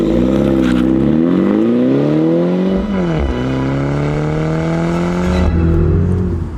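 A new MINI John Cooper Works Convertible accelerates through its gears, its exhaust note rising in pitch with each upshift and dropping, loud and close inside the car, with no one talking.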